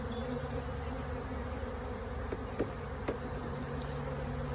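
Honeybees buzz around an open hive while winter supers are removed, a dense, continuous drone close by with a few faint knocks against the wooden boxes and no talk.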